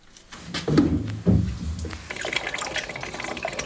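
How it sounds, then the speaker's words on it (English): White diesel glugs from a 20-litre jerry can into a tank at an off-grid cottage, a close, steady pour with a few gurgling surges at the start that settle into an even stream. "That's white diesel going in, isn't it?"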